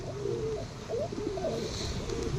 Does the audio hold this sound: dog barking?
no